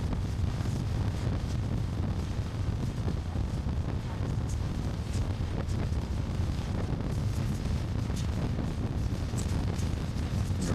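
Motorcycle cruising at around 75 mph on an interstate highway, with steady heavy wind roar buffeting the microphone and covering the engine throughout.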